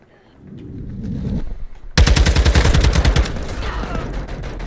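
Automatic gunfire from Call of Duty MWII, a loud sustained burst of rapid shots that cuts in abruptly after a low rumbling lead-in and keeps rattling close by.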